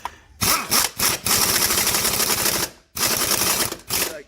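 An impact wrench with a swivel joint hammers on the front wishbone bolt of a Mercedes Sprinter, loud rapid rattling bursts broken by short pauses, close and with no talk.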